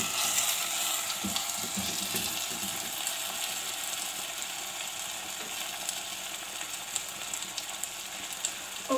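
Paya (goat trotters) sizzle and fry steadily in a hot pan, a dense continuous crackle with a few soft knocks early on, fairly close and with no talking.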